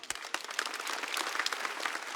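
Audience applause at a stand-up comedy competition show, a short burst of many hands clapping at moderate distance, fairly faint and continuous for a couple of seconds.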